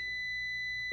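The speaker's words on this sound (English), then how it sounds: "You hear that beep?" A multimeter continuity beep from the test leads touching together, a steady high electronic tone held for about a second, close and clear with no talking.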